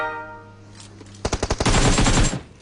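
Rapid automatic gunfire in a video game, a quick rattling string of shots followed by a dense, loud sustained burst after a quieter tonal hum.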